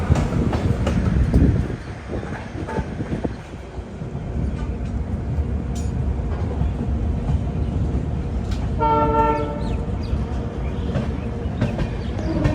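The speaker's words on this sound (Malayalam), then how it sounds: "ട്രെയിനിൻ്റെ ലോക്കോമോട്ടീവ് ഡീസലാണ്." Diesel-hauled express train at New Bongaigaon station, a low rumbling engine and rolling wagons heard up close, with a brief horn toot partway through and faint voices in the background.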